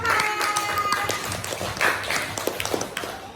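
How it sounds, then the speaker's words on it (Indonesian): Scattered claps from a classroom full of students applauding a student group after a class presentation, with irregular, overlapping claps at moderate loudness and faint voices in the background. "Beri tepuk tangan untuk kelompok 2."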